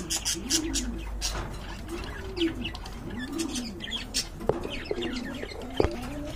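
Local desi pigeons coo in soft, repeated throaty phrases, with other birds chirping brightly around them and a few sharp taps near the end.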